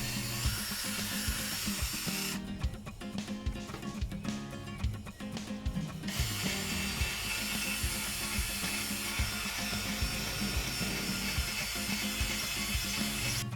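A drill with a 3000-grit sanding disc attachment sands a LEGO serving board, giving a continuous loud whirring grind that dips and changes briefly midway before resuming steadily, with no talking.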